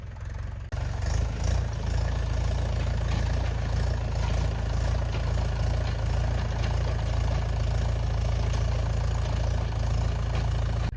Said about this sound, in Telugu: మా ఫాదరు దున్నేస్తున్నారు ట్రాక్టర్ పెట్టుకొని